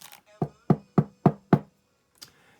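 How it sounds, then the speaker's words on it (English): Knocking on a house door: four sharp, evenly spaced knocks close by, followed by a faint brief sound, alone without talk. "His neighbor, Cherry Sue, knocked on his door"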